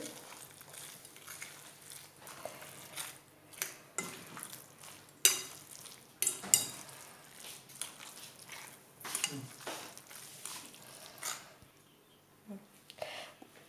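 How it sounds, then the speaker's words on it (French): Sardine ball mixture being mixed by hand in a bowl for sardine meatballs in tomato sauce, giving soft, irregular squishing and stirring sounds with occasional sharper clicks of a utensil or bowl, fairly quiet and close. "Vous pouvez mélanger à la main si vous le souhaitez."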